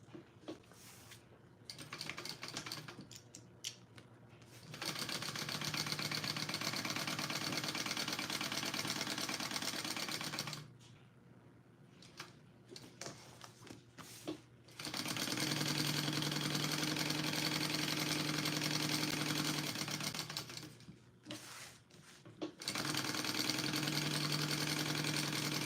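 Sewing machine basting two fabric layers together, running in long steady bursts of rapid stitching broken by short pauses, fairly close and alone without talk.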